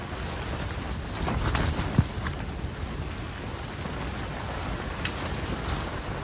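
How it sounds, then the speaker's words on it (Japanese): Strong, gusty winter wind buffets a campsite at the foot of a mountain during a severe storm, a steady roaring rush that swells and eases, with a brief knock partway through. "麓っ腹の風がとても強いです。"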